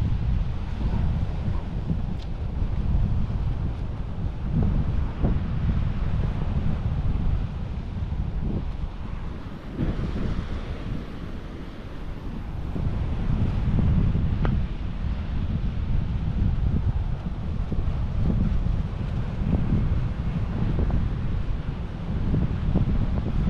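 Strong, unrelenting wind buffets the microphone at sea while waves slosh and surge, a loud continuous roar with gusty rises and falls throughout.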